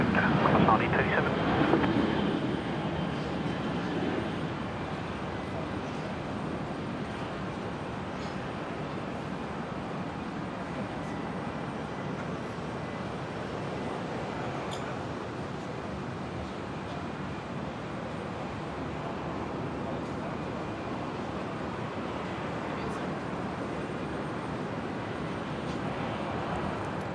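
An airliner departs runway 19 left at Brisbane airport bound for Melbourne, a steady broad engine roar heard from a distance that swells briefly at the start and then holds at a constant level, with no talk.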